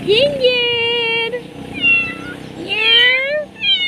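An impatient pet cat meows loudly and close by, giving three long, drawn-out rising calls in a row while people talk nearby.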